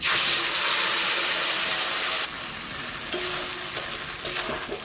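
A ground mixed-spice paste hits hot oil with bay leaf, dried chilli and cumin, a loud dense hiss that drops in level after a couple of seconds, then keeps frying with scraping stirs and small pops.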